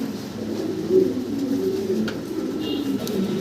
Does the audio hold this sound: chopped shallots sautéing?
no